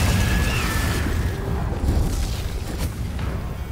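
Confringo explosive spell going off in Hogwarts Legacy, a loud, dense rumbling blast that fills the whole moment with a sustained booming roar.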